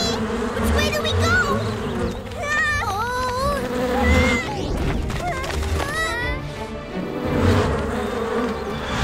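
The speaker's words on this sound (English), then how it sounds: "Sayo, it's the bees! I don't think they're too happy we took their honey" A cartoon swarm of bees buzzes loudly and continuously, with shifting whining tones rising and falling, while animated characters shout over it.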